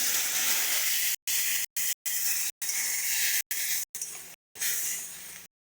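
Water poured into a pan of frying potato with salt, turmeric, chilli and tomato sets off a loud, steady sizzling hiss close by, cut by several brief silences, with no voices.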